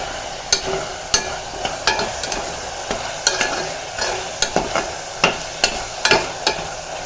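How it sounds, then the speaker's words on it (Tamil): Eggplant is sautéed in a pan for a spicy tamarind curry. A utensil scrapes and knocks against the pan in a steady, irregular rhythm over a soft, continuous frying sizzle, heard up close with no talking. "கத்திரிக்காயை போட்டு நல்லா வதக்கிண்டா விட்டு கொஞ்சம் வேகட்டும் கத்திரிக்காய்"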